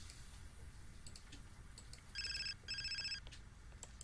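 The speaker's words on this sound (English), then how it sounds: "Oh, her phone was ringing." A phone ringing in The Sims 4, two short bursts of an electronic trilling ring separated by a brief gap, faint over low background hum and scattered clicks.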